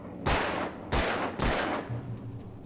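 Three loud, sharp gunshots from a firearm in Alan Wake, spaced about half a second apart, each leaving a brief ringing tail, with quiet between them.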